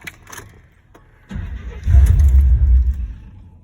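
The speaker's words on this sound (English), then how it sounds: "It doesn't want to start." A truck's starter cranks a few times and fails to catch after the vehicle sat unused for months. The cranking is close and loud, grows into a rough, churning grind, and stops without the engine running.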